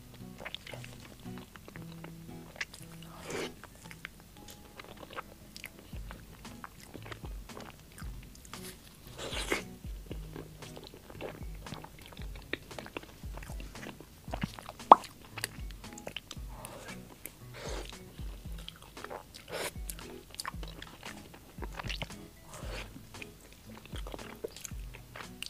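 Someone chews and eats food at a dining table, with repeated soft crunchy bites and mouth sounds carrying on steadily throughout, close and fairly quiet.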